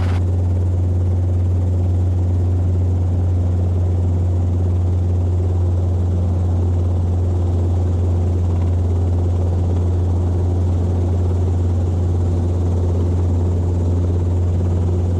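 A Robinson R22 helicopter's engine and rotor run near the landing spot, giving a loud, steady, unbroken drone with a strong low hum for the whole stretch.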